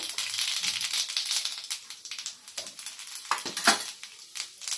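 Mustard seeds and cumin hit hot oil, crackling in a bright, spitting sizzle with scattered sharp pops and a few utensil scrapes, loud at first and then thinning out.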